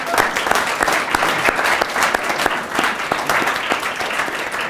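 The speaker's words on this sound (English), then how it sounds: "let's give him a round of applause" Audience applause at a school awards show, dense clapping from a crowd with uneven surges in loudness throughout.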